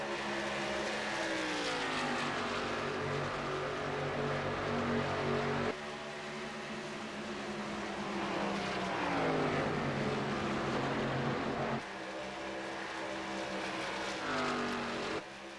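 Race cars circling a racetrack in a WFO Race League event, engines droning steadily with rising and falling pitch as cars pass in successive waves, loud and continuous.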